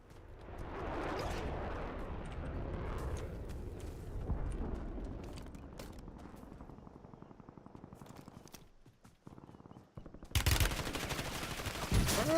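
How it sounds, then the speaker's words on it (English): Shotgun and other gunfire in a first-person shooter video game: a rapid, continuous volley of sharp blasts, mixed with crashing impacts and a loud burst near the end. "What's with all the shotguns?"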